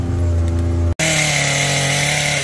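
A saw cuts tree branches during treetop trimming, its steady, loud, buzzing engine drone close by, briefly cutting out before resuming at a lower pitch.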